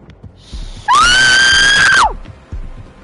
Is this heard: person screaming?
yes